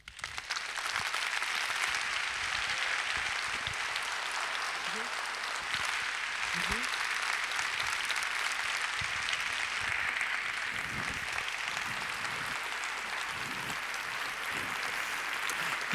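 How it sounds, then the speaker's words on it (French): Steady applause from a conference audience at a women's forum keynote, a dense wash of clapping that holds evenly for the whole stretch at moderate distance, with no voices rising above it. "Merci d'applaudir encore plus chaleureusement, s'il vous plaît, Maud Ankawa."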